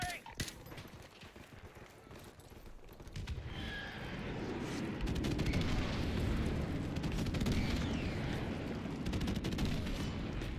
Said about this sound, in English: Love shooting the watermelons.